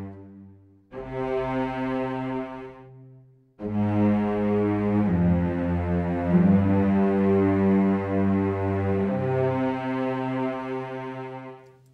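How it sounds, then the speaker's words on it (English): An orchestral cello line programmed in Logic Pro X, played with violin-style phrasing: sustained, rich bowed notes that swell and shift pitch across a slow melody, loud and alone with no talk. "So what does the cello sound like with that movement?"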